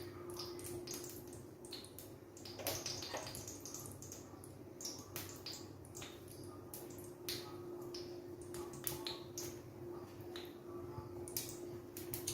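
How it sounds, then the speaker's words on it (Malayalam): Mustard seeds pop and splutter in about a tablespoon of hot oil at the start of a Kerala roasted-coconut chicken curry: scattered, faint sharp crackles and ticks over a low steady background hiss. "കടുക് പൊട്ടി"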